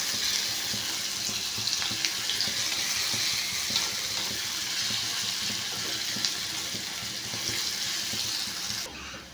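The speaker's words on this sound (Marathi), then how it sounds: "तर कांदा मऊ होईपर्यंत तेलात परतून घ्यायचा" Onions softening in hot oil in a pan give a steady, fairly loud broadband sizzle throughout, with faint stirring texture and no speech, cutting off just before the end.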